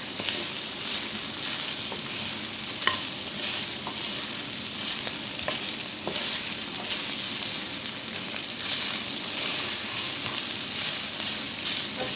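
Steady, dense sizzling of oil in a pan while frying Thai curry paste, close and continuous, with a few faint clinks and stirs scattered through.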